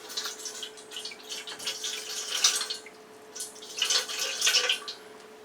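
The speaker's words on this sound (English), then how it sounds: "we pour in our 138 grams of water into the bowl" Water is poured into a bowl for sourdough bread dough, making a close, splashing, dripping trickle that swells and fades in uneven bursts, with no talking.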